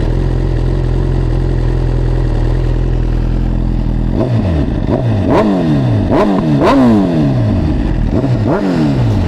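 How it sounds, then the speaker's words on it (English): A Yamaha R1 or Suzuki GSX-R1000R sport motorcycle idles steadily, then revs hard in a string of sharp, rising blips that fall away between throttle stabs, loud and close with no talk. "when Dale start his bike"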